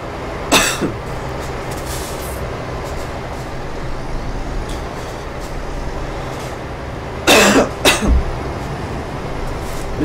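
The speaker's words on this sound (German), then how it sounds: "Müsste ich aber ein bisschen drauf einstellen, dass ich ein bisschen huste." Two dry coughs from a scratchy throat, one near the start and one later, cut sharply through a steady low rumble of truck engine noise from a driving game.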